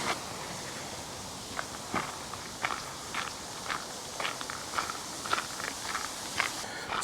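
Steady footsteps walking along the Stratford-upon-Avon Canal towpath, a series of soft, fairly regular close steps over a faint outdoor background hiss, with no talking.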